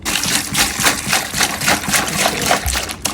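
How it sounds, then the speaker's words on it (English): Water poured and trickling over a few dishes being washed outdoors with no running water, a steady close splashing and dribbling that rises and falls in pulses throughout. "So we have no water, so I'm going to use this to wash these few dishes."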